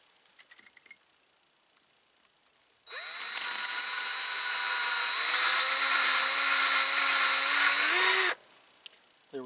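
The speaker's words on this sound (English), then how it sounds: "First pop rivet in." A power rivet tool setting a pop rivet while building a well, heard as a loud continuous whirring drone that starts abruptly, rises in pitch as it strains, then cuts off sharply after about five seconds, with faint clicks before.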